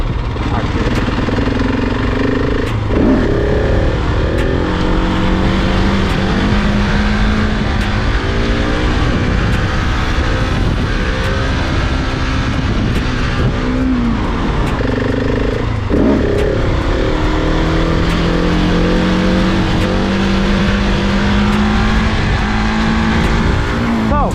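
A KTM 690 supermoto motorcycle roars loud and close during stunts, its single-cylinder engine revving up and down in repeated rising sweeps, with a rider's voice faintly underneath.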